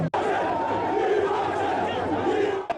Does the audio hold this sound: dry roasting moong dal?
no